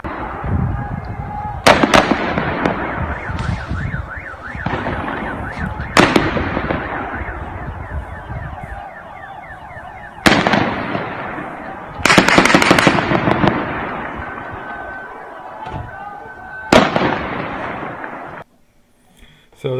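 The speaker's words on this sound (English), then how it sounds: "you can definitely hear AK-47s" Sharp bursts of AK-47 gunfire in Tehran, Iran, loud sudden cracks at uneven intervals separated by long noisy stretches of crowd and street sound, with rising whistling tones in between.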